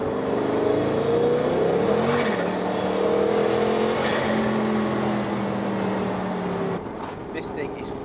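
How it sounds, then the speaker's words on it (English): A powerful Noble M600 sports car engine revs up and down in long rising and falling sweeps, loud and close, before cutting off near the end. "this is what it sounds like"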